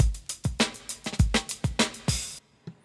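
A drum kit loop plays back from Ableton, a punchy groove of kick and snare hits with bright cymbal wash, up close and alone, ending abruptly with one stray hit after.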